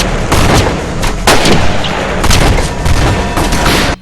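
Loud, dense gunfire from several shooters in the Rob Zombie Halloween 2 film, sharp bursts and booms overlapping continuously at close range.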